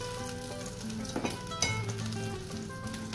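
Chopped onion sizzles and fries steadily in a hot pan for chicken enchiladas, a dense continuous crackle close by with a few brief stirring bumps and no talking.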